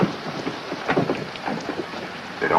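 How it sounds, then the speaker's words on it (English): Heavy rain pours steadily in a 1947 noir film scene, a dense continuous hiss with scattered louder spatters and a faint low rumble, no talk over it. "Even when it rained hard, like now."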